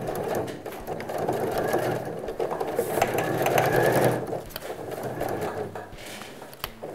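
A sewing machine runs continuously and close up while stitching and backtacking a SnapPap bread basket, a steady mechanical whir with slight shifts in speed.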